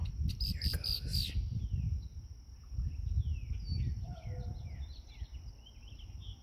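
Small birds chirp faintly in an outdoor setting, giving thin high tweets and short downward-sliding calls over a low rumbling background, with a brief burst of sharper chirps near the start.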